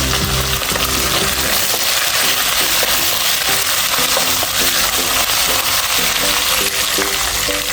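Curry leaves crackle and sizzle loudly as they drop into coconut pieces frying in hot oil for a Kerala clam stir fry, a dense, steady spitting hiss that fills the whole stretch without any voice.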